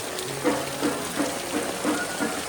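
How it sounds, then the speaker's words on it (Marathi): Steady rain falls continuously, with a faint, regular pattering of drops hitting a surface nearby. "पाऊस बघ काय लागतोय"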